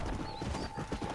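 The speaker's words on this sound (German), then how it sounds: "Finde eins der 4 Pferde der Apokalypse." A horse in Red Dead Redemption: Undead Nightmare, one of the Four Horses of the Apocalypse, gives quick, close clip-clopping hoofbeats mixed with a whinny in a brief burst.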